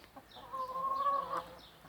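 A broody hen's soft, drawn-out clucking call, fairly faint and close, heard alone against quiet background.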